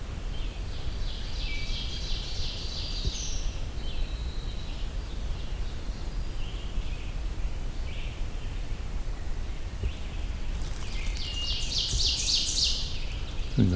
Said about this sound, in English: It's a distant wood thrush out there.